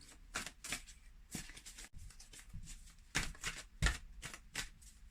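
Angel cards shuffled for a reading, with repeated crisp riffling bursts at an irregular rhythm, fairly quiet and close, with no talk over them.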